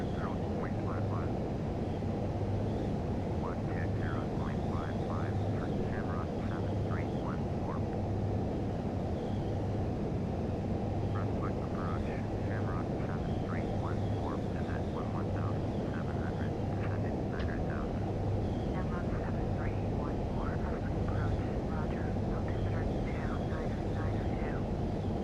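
Cockpit of an Airbus A319 airliner descending in Flight Simulator X, a steady broad engine and air rumble throughout, with occasional speech over the drone.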